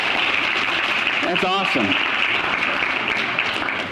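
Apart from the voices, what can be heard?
congregation applause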